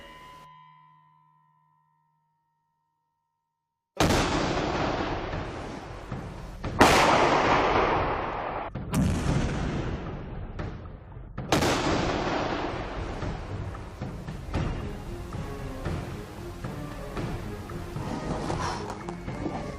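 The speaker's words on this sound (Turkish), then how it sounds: "Şimdi patlama anında sıra." After a brief tone and silence, a huge demolition-training blast booms out, followed by several more heavy explosions and long rumbling debris noise.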